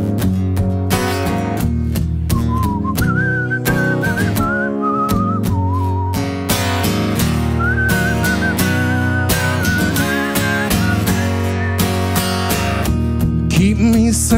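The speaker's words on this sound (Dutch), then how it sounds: "Ja, fluiten." Sustained audience whistling of a song's melody at a live concert rides over a full band playing loudly, the tune rising and falling steadily throughout.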